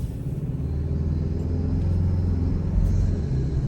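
A 2025 Toyota 4Runner Trailhunter hybrid off-road SUV driving, heard from inside as a steady, fairly loud low rumble of engine and road noise that swells slightly midway, with no talking.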